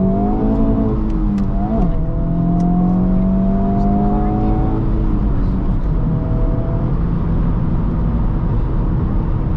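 A 2024 Honda Civic Type R with a six-speed manual pulls hard up a highway on-ramp in cold weather. Its engine note climbs through the gears with a steady, loud drone, and one short dip in pitch marks a shift.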